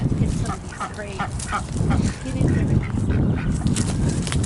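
Geese honk by a large lake, a cluster of loud nasal calls repeating through outdoor ambience while someone talks over them.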